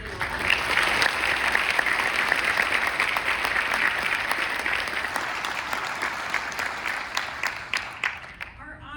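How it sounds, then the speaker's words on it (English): Audience applause at the State Department's 2024 Human Rights Defenders Award ceremony, a dense sustained round of clapping lasting several seconds that thins out toward the end. "Let's give them a round of applause."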